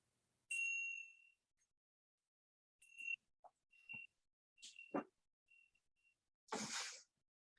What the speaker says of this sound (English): I said I'd ring a bell, so I will.